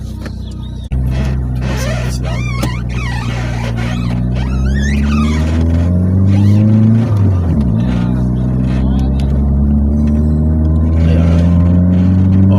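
A Fiat Palio 1.0 with a new engine accelerates through second and third gear, its engine note climbing steadily and loudly, dipping briefly at a gear change, then rising again close inside the cabin.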